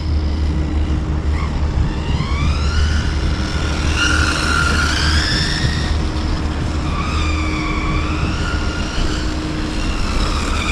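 MJX Citroen C3 and VW Polo RC cars lapping a track, a constant high electric motor whine rising and falling in pitch as the small cars accelerate and slow, loud and close over a steady hum.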